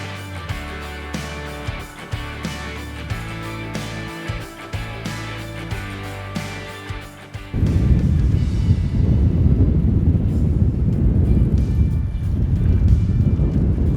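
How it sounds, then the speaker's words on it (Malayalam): Strong wind blows outdoors at Kadamakudy near Kochi, Kerala, roaring and buffeting loudly and steadily in the second half after an opening stretch of tonal music. "സൂപ്പർ കാറ്റാണ് ഇവിടെ, നല്ല അടിപൊളി കാറ്റ് തന്നെയാണ് ഇവിടെ."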